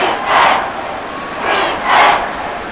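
Stadium crowd in the Madden NFL 24 video game, Saints versus Buccaneers, rising in two or three loud roaring swells that build and fade over a few seconds, alone without commentary.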